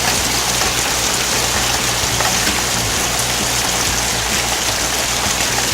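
Heavy rain from Hurricane Irma pours down in a loud, constant hiss of drops drumming on surfaces, steady and unbroken with no voices.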